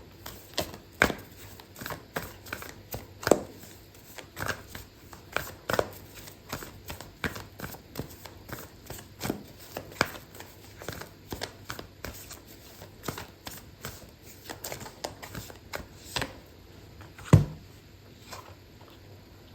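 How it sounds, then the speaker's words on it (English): A deck of oracle cards being shuffled by hand, a long series of quick, crisp riffles and taps in irregular bursts, close and fairly quiet, with one sharper snap near the end. "I'm going to pull out an oracle card for you"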